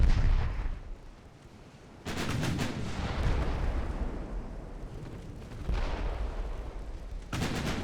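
Naval gunfire from warships in a naval battle game, with loud cannon blasts booming and rumbling, several salvos from multiple ships overlapping in sustained rolling fire.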